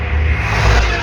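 A bus rumbles past on a road at night, a steady, loud low engine roar and road noise that swells slightly toward the end of the brief moment.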